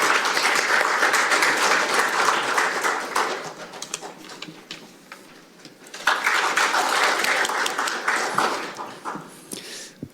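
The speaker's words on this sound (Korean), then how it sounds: "박수로 맞아주시기 바랍니다" Audience applause at a parliamentary forum on training national strategic maritime officers, welcoming the chairman of the Korea Maritime Industry Federation to the stage; steady broadband clapping from a packed hall, dipping briefly midway before surging back loud.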